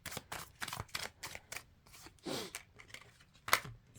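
Tarot cards are shuffled by hand in a run of quick, crisp riffles and papery flicks, close and moderately loud, with short pauses between bursts and no speech.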